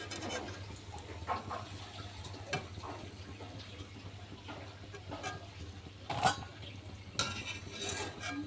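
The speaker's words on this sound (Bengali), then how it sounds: "এভাবে পিঠাগুলো ভাজতে থাকবো" Bora pitha frying in hot oil, a soft low sizzle with occasional light stirring clinks and scrapes of a utensil in the pan, fairly quiet and close, with no voices.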